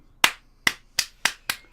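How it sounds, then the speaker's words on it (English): Five sharp, evenly spaced hand claps, close and fairly quiet, given alone as slow applause for a reading. "I'm just applauding your performance"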